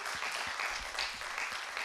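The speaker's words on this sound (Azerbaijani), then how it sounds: "alqışlar qızımıza" An audience applauds a young girl called up onto an evening show stage, a brief, dense burst of many hands clapping at once, fairly loud and continuous.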